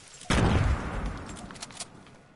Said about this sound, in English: People are shooting.